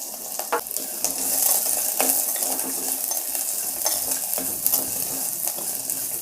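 Chopped onion sautéing in hot oil with garlic in a pan, a steady sizzle with intermittent stirring clicks and scrapes from a utensil, close and moderately loud.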